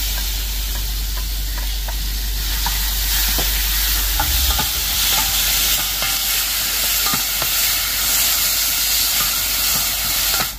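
Pumpkin sautéing with spices in a pan gives a steady, close hiss and sizzle, broken by frequent light clicks and scrapes of stirring throughout, with no voices.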